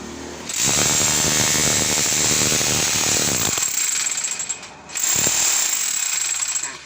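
Power hammer driving a copper ground rod into the earth during a grounding wire installation, a loud, rapid hammering burst of about three seconds, a short pause, then a second burst.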